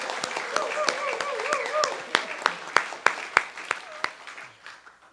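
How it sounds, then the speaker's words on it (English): Applause from a congregation welcoming a speaker, a handful of sharp, distinct claps growing louder and then thinning out, while a voice talks over the first half. "Now you may clap."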